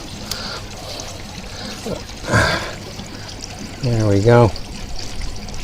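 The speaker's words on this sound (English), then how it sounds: "You can actually see the flow of water there, look." Water flowing and trickling down through stacked boxes, a soft continuous pour with a few splashy bursts, while someone speaks briefly nearby.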